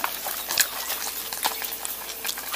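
Freshly caught tilapia sizzles in hot oil on a riverbank, a dense, continuous crackling hiss with scattered sharper pops, close and steady with no voices.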